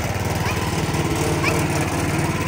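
A tractor engine runs steadily close by on a village road, a loud continuous buzzing drone with an even rhythm and no voices over it.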